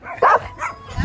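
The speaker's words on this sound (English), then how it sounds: "Barking there." A dog on a farm gives a single sharp bark followed by a softer yip, close and brief, with faint background noise.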